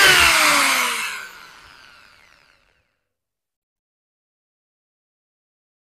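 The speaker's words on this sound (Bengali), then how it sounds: "এখন আমি এই 550 ওয়াটের ACI স্মার্ট পাওয়ার টুলসের ড্রিল মেশিন দিয়ে ছিদ্র করব কাঠ।" A 550-watt ACI Smart impact drill boring into wood gives a loud, close motor whine that winds down over a couple of seconds and fades into silence.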